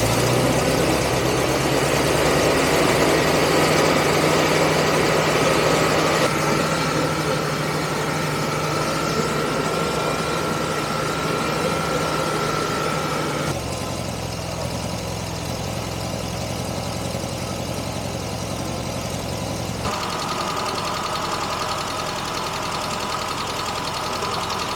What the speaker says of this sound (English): So the van's engine's running pretty well now.